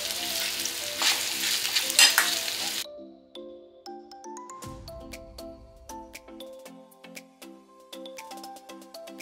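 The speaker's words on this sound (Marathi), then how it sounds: "तुम्ही बघू शकता भेंडी छान तेलावर मी फ्राय केलेली आहे।" Marinated okra sizzles loudly in hot oil for about three seconds, then the sound cuts to light, plinking tonal music with no frying heard.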